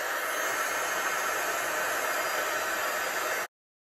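A heat embossing gun runs steadily for card making, giving a loud, even blowing hiss with no variation before it cuts off abruptly just before the end.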